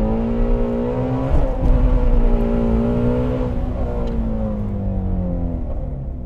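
A Ford Shelby GT350 accelerates in first gear, its engine droning loud and close as the pitch rises steadily, then holds and eases off, with faint cabin noise underneath.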